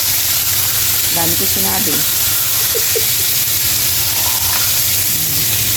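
Tilapia frying in a pan for a coconut-milk tilapia dish, a steady sizzle and spatter running throughout, close and fairly loud, with people talking intermittently over it.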